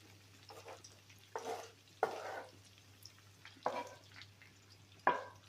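Chopped onion is tipped into a frying pan of liver in a few quiet bursts: soft spills and rustles, each followed by a short sizzle, over a low steady hum, with no voices.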